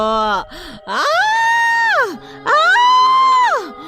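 A witch in a Hindi ghost story screams loudly: a short cry, then two long, sustained, high wailing shrieks that rise, hold steady and fall away, close and strong with no other sound between them.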